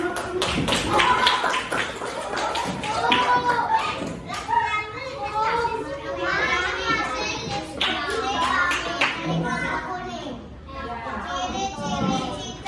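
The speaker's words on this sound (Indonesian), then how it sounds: "tepuk tangan buat kelompok kembali" Children in a classroom group activity clap their hands in applause for a group, rapid rhythmic bursts repeating through the clip, with a teacher and kids talking over and between the clapping.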